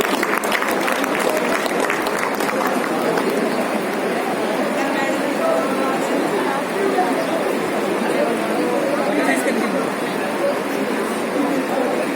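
Loud, sustained applause from a large crowd at a sports honours gathering in a Delhi party office, dense steady clapping with a murmur of voices running through all twelve seconds.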